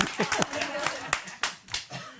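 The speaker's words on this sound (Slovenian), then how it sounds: "Ja, dajmo ploskati." A small group claps in scattered, uneven bursts, fairly close, with a voice briefly heard among the claps.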